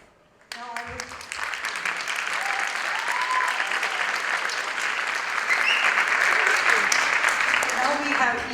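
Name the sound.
audience applause for a young dancer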